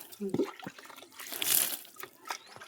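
Water splashing and trickling while a vegetable garden is watered, with pumpkin and chilli plants nearby; uneven bursts of pouring swell and fade, loudest midway, with brief voices around it.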